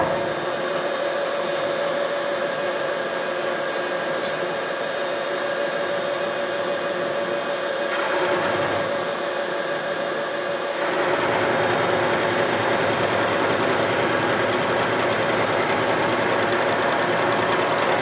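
Metal lathe turning a light cut at about 400 RPM with a high-speed steel tool, a steady close mechanical hum and whir with a constant tonal drone, shifting slightly partway through.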